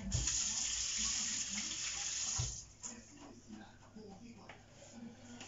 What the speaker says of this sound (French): je vais laver mes mains.